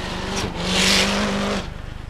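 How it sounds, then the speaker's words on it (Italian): A Lancia Delta HF integrale rally car races at the 1990 Motor Show Bettega Memorial, its engine swelling loudly as it sweeps past close by, then fading into a steady rumble. "sta guidando in questo momento un po' più pulito di Mickey"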